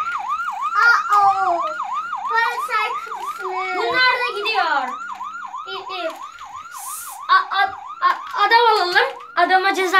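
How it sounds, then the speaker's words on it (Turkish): An ambulance siren wails in a traffic video game, a loud repeating up-and-down electronic wail with other game sounds and children talking over it. "Ambulans geliyor."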